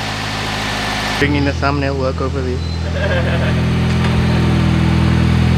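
A Honda Prelude engine idles with a steady low rumble throughout, while someone speaks over it for a couple of seconds near the start.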